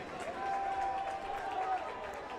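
Crowd noise swells at a high-school championship baseball game after a double, the first hit of the game, as a sustained broad roar of cheering with a steady whistle-like tone running through the middle.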